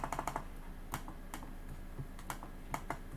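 Fingers type on a computer keyboard tried out while set up with Samsung DeX and a NexDock 360, giving a quick cluster of key clicks at first, then scattered single taps, close and clear with no talk.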